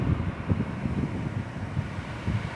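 Strong wind gusts buffet the microphone outdoors beside a steel container home with swaying pines during Hurricane Ian, a loud rumbling roar that surges in several pulses and never lets up.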